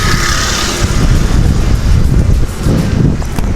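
Wind blowing outdoors in an open scenic spot, a loud steady rumble buffeting the microphone throughout, with no talking.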